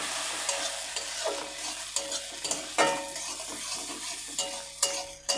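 Yardlong beans go into a pan of frying onion, giving a steady close sizzle with scraping stir strokes and occasional light clinks of a utensil against the pan.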